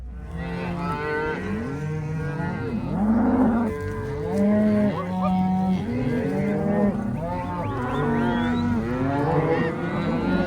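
Calves fresh from branding on a desert ranch moo repeatedly, overlapping calls rising and falling in a near, continuous chorus of bawling cattle.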